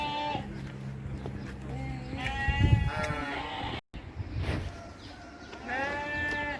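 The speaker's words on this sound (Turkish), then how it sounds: "Keçiler, koyunlar, kuzular geziyor dışarılarda." Sheep bleat repeatedly at close range in a hobby garden in Istanbul, several wavering calls overlapping, with some low background noise between them.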